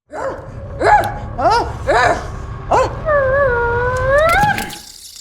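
People imitate dogs, with a few short yelping barks giving way to a long wavering howl, loud and close with no other talk.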